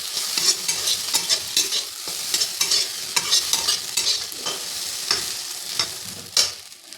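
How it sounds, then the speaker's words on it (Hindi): Tapioca pearls (sabudana) frying in a pan while being stirred, with a steady close sizzle and repeated scraping, clinking strokes throughout, no talk. "साबूदाना को अच्छे तरीके से थोड़ा सा फ्राई कर लेती हूँ।"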